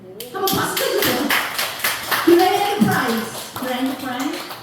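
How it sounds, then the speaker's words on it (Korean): An audience at a church mission report claps in a steady patter of hands that runs throughout, mixed with a speaking voice. "한번 박수 쳐주세요"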